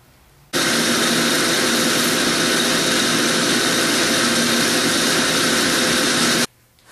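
A Bridgeport milling machine bores a hole in stock for bushings, giving a loud, steady broadband whir that starts abruptly, holds evenly for about six seconds, then cuts off. No one talks over it.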